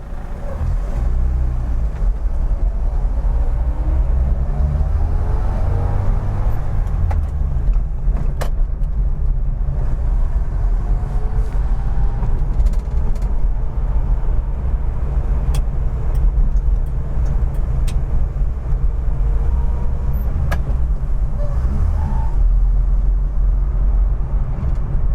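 A 1960s Vauxhall Victor drives along in third gear, its engine note a steady, loud drone with shifting pitch throughout, heard alone without talk in traffic.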